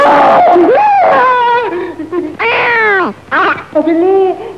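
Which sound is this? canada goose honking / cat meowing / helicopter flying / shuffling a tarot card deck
cat meowing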